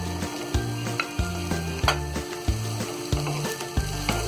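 Rice with salt being stir-fried for restaurant-style chicken fried rice, with a steady sizzle under regular scraping and clanking strokes of a spatula against the pan, about one stroke every half second.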